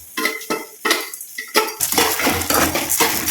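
Lentils for a dal chutney are dry-roasted in a pan and stirred without pause, loud rattling scrapes of a utensil against metal, irregular at first and then quicker and denser.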